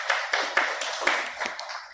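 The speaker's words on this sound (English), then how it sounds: "Please give him a round of applause" Sparse, light clapping from a small workshop audience, a few distinct claps spread unevenly over a couple of seconds in a quiet room.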